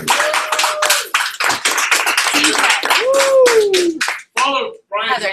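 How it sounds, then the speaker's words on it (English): A few people give a round of applause at a vape shop gathering, with loud close handclaps broken by short gaps and voices talking over them. "Round of applause, everybody."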